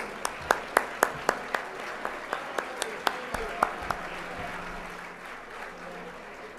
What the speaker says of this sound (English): Let's also applaud our entertainment,